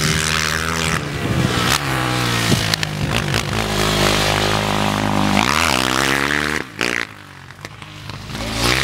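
A quad bike engine revs hard and close, its loud buzzing tone rising and falling with the throttle before dropping off sharply near the end, then picking up again.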